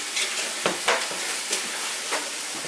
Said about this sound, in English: You just want to simmer this for about